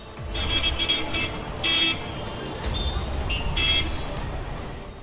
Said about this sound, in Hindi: कहीं भी चले जाइए, ट्रैफिक नॉइज से मुक्ति नहीं।